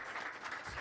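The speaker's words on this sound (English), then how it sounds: "Let's give him another round of applause." A short, faint burst of applause from an audience at a Safaricom Sacco twentieth-anniversary gathering, soft and distant.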